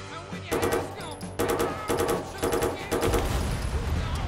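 Rapid bursts of automatic gunfire in the Watch Dogs 2 video game, several loud, close volleys in quick succession with short gaps between them and a faint electronic tone underneath.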